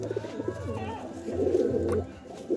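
A male pigeon coos in low, rolling throaty phrases, close by and fairly quiet, with some faint background noise around it.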